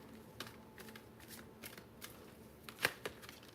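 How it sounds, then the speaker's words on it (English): Tarot or oracle reading cards being gathered up after a fall, with soft scattered shuffling and card flicks and one sharper snap near the end, all faint and close with no talking. "Sorry about that, my cards fell."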